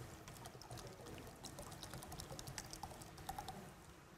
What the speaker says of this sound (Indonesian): Pertama kita tuangkan air dulu.